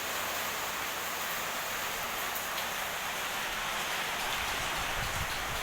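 Heavy monsoon rain pours steadily outside a house, a dense, even hiss of water on surfaces with no letup and no voices.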